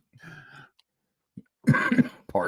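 A couple of short coughs and throat sounds close by, separated by brief silence, the last ones louder and rougher.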